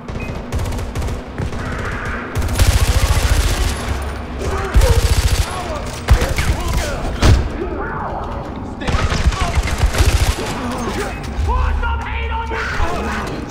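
Bursts of automatic gunfire in Far Cry 4, several loud rapid volleys with mechanical clatter between them, mixed with shouting voices.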